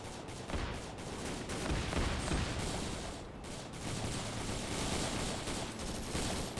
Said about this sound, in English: rocket just got fired close by